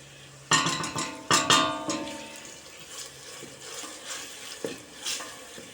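A spoon stirs pepper paste into sautéed onions in a pot for Trakya-style broad bean soup, giving several sharp scraping clanks against the pot early on, then softer intermittent stirring over a low sizzle.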